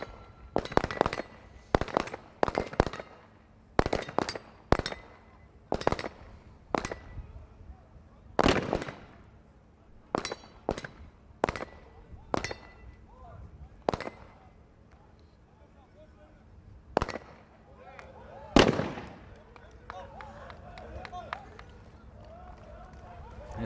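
Handgun shots on the pistol range of a SWAT team competition, fired in rapid clusters of sharp cracks with pauses between strings, fairly close and loud, with faint background voices.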